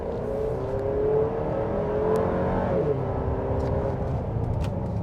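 The engine of a 2025 GMC Acadia Denali AWD pulls under acceleration, a steady rising whir and hum with road noise heard from inside the cabin, brief clicks scattered through.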